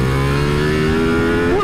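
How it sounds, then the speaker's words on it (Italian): A Ducati Multistrada Pikes Peak V4 motorcycle revs hard on a racetrack, its engine note climbing steadily in pitch under acceleration, loud and close throughout. "Il motore si sente che quello del V4."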